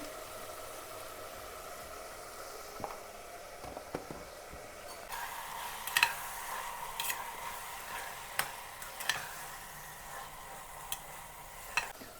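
Turmeric frying in a pan: a low, steady sizzle with scattered small ticks and stirring scrapes that grow a little busier partway through, fairly quiet and without speech.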